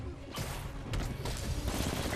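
Machine gun fire in a Spider-Man video game, a dense rattling burst of rapid shots with crashing impacts, loud and continuous under game noise.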